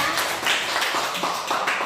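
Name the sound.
applause for group 2 in a classroom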